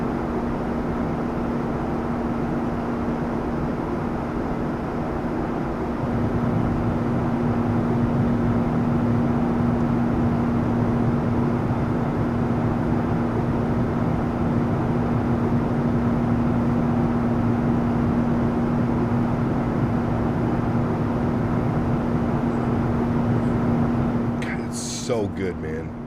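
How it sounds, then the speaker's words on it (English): A Boeing 737 MAX 8 cockpit in a flight simulator game gives off a steady, loud engine and air hum with a constant tone that stays unbroken until a brief clatter near the end. "It literally sounds like you're sitting on an airplane."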